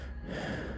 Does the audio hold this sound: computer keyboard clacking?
no